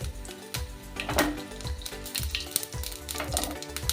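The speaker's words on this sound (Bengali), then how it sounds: "এবার দিয়ে দেবো ফোড়ন ফোড়নে আছে সাদা জিরে আর সর্ষে" Cumin and mustard seeds crackle and sizzle in hot oil, a close, steady frying hiss broken by rhythmic popping and light clinks of a pan, with no voices.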